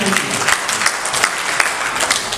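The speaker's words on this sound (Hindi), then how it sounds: "उसके लिए तो ताली होनी चाहिए।" Steady audience applause with dense, crisp clapping fills the room, continuous and fairly close, with no talking over it.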